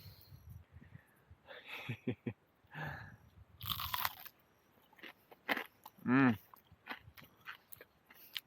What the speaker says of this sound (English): That batter is crunchy.